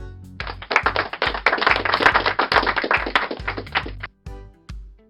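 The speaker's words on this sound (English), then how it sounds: "Applause." Canned applause sound effect from a cheap voice changer and sound mixer: a dense burst of clapping lasts about four seconds over a steady low thumping pulse, then cuts off.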